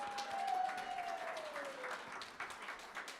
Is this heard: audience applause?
yes